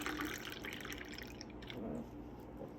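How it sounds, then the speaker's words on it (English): Water trickles steadily into a glass holding rhubarb tonic, a soft continuous splash and fill that stays faint and close throughout, with no one talking. "And I am just adding some water."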